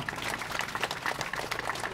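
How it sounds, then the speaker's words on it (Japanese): An audience at a US Air Force Pacific band concert, held at the Nerima family festival, claps in a dense, continuous patter of many hands. The applause is moderately loud and steady throughout. "会場の皆さん、近隣の皆さんに拍手をお送りいただきましょう。"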